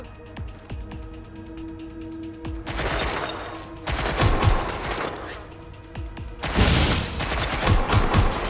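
Rapid bursts of gunfire in the video game Watch Dogs Legion come in three loud waves of sustained shooting, with quieter, sparse background game noise between them.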